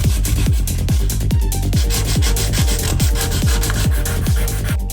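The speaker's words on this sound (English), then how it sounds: "continue sanding down the rest of the truck" Hand sanding of a Ford F250 truck body in a 7.3 OBS restoration, a loud close rasp with rhythmic back-and-forth strokes repeating roughly twice per second, no talk.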